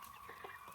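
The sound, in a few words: chickens clucking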